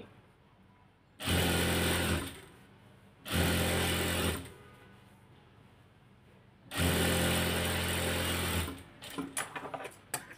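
Sewing machine stitching the hem of a salwar leg runs in three separate whirring bursts, two short and one longer, with quiet pauses between and faint handling clicks at the end.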